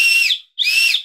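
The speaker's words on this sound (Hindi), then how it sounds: "ये सीटी को बजा देता हूँ, देख सकते हैं ज़बरदस्त सीटी दे रहा है" Two sharp, loud blasts from a small toy whistle, each shrill and bright, separated by a brief silent gap, heard close up and alone.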